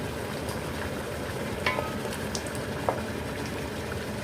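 Chicken bubbles in water in a covered pot on the stove, with a steady simmer and sizzle and a few brief clinks and knocks.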